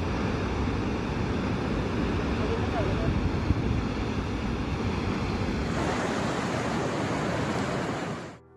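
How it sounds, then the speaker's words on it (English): Strong storm waves pounding the coast at Garachico, Spain: a continuous, loud roar of surf and churning sea with wind buffeting the microphone, sustained throughout before fading out at the end. "the strong waves surprised the coastal area of the municipality of Garachico, which the sea entered with force"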